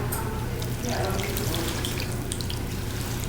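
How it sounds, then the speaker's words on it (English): A mixture of heavy cream and chicken broth pours from a bowl over bread, a steady close splashing, gurgling flow like a running tap that continues without pause. "So now it's time to pour it over the bread."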